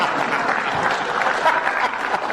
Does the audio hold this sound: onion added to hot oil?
no